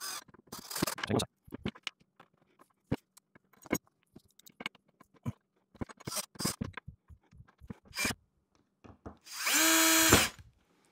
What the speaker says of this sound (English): I'll just put them in by hand and then I will drill them down